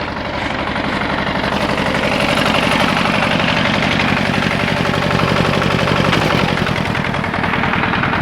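A small 4x4 tractor's engine runs steadily and loudly up close, a dense rapid chugging rumble that holds constant throughout with no talking.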